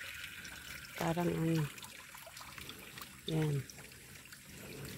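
Clean stream water flowing and trickling in a steady, soft wash, with a person talking briefly over it outdoors by the stream.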